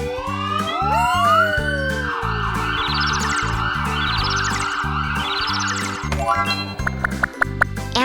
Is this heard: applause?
no